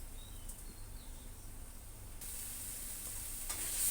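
A spice paste with salt and turmeric is sautéed and stirred in a pan, producing a soft, steady sizzle that grows louder toward the end, with no voices.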